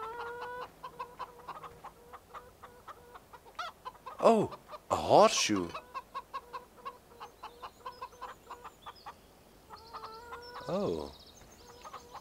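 Chickens cluck in a steady, rhythmic stream of short calls in the Farming Simulator 2013 video game, moderately close. Someone speaks excitedly in the middle and again near the end.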